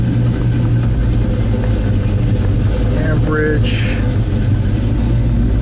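A 1971 Chevelle SS with a 383 engine and factory air conditioning idles steadily while warming up, a continuous low rumble under a man's brief spoken word.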